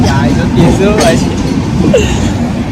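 Steady loud rumble of a train running through an enclosed tunnel near Ratnagiri station, with people talking over the continuous roar.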